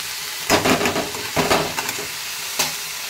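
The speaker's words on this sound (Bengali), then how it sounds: "সিম, বেগুন, আলু আছে, তারপরে গাজর আছে অল্প, মূলো আছে, সব দিয়ে একটু ভাজা ভাজা করে নেব" Mixed vegetables (beans, eggplant, potato, a little carrot and radish) frying in a pan, with loud bursts of sizzling and stirring scrapes in several short surges over a constant hiss.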